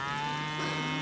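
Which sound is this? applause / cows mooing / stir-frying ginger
cows mooing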